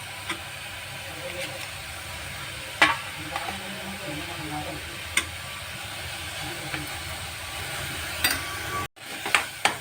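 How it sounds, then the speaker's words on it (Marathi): Mawa is stirred and sautéed in a pan over a soft steady sizzle, with occasional sharp spoon clicks against the pan scattered through it. "आपण मावाही त्यामध्ये सगळा परतून घेऊया"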